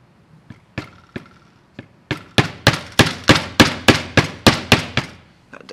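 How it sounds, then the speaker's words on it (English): A hammer strikes a 3D-printed geared winch part resting on a desk, with a few scattered blows and then a steady run of about a dozen loud, sharp, evenly spaced knocks. "That desk is just absorbing like all of the hammer blow."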